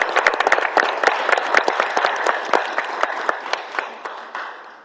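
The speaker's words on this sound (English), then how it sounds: "You can clap now" A small audience at a city council meeting claps for firefighter and EMT rescuers, the scattered, distinct hand claps loud at first and then gradually thinning and fading out, with no talking.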